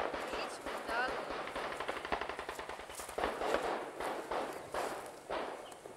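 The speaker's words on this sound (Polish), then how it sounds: "Wybuchy słuchaj tam." Battle explosions and rapid gunfire from a war film set at a surrounded front, with repeated bursts and booms in a dense, continuous barrage while voices talk over it.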